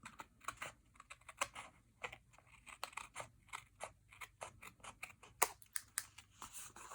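Scissors trimming paper card for a handmade farmhouse-style card, a rapid run of crisp, close snips and crunches in an irregular rhythm, with no talking.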